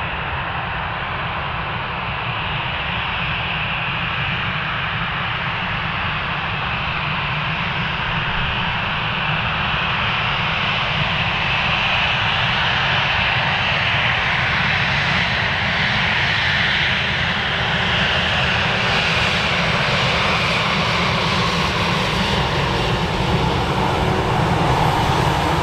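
An airplane lands on runway 25R at a freezing Frankfurt Airport, its engines a loud, close, continuous roar and rushing hiss that builds slightly throughout.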